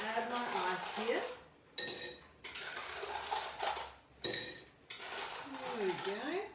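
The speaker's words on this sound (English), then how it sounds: "I'm just going to add my ice here" Ice clinks and rattles into a glass for a stirred Manhattan, with several bursts of cubes clattering close by and a voice talking between them.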